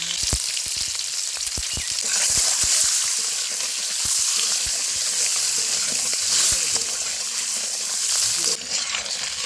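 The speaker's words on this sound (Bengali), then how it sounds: "ডিমগুলো ভাজা হয়ে গেছে" Free-range chicken eggs fry in a hot pan with salt and turmeric, giving a steady bright crackling sizzle with scattered sharp oil pops throughout, close and continuous.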